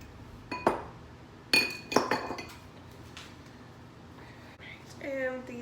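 Cupcake batter is mixed in a bowl, heard as a few sharp clinks of a utensil against the bowl followed by softer scraping, close up, with a person talking.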